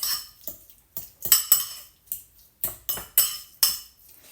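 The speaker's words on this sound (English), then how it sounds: "So now I'm just going to push all that together, kind of stir that up." Egg salad made with tallow mayonnaise is stirred and pushed together in a bowl, producing about a dozen distinct, quiet clinks and scrapes of a utensil against the dish in an uneven rhythm, with no talking.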